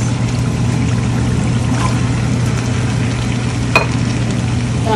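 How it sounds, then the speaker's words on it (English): Boiled chickpeas, about four cups, tip into a hot pan of chicken and tomato masala, giving a steady sizzle and frying hiss with a brief clattering pour of the chickpeas, and no talk. "now we're going to add chickpeas"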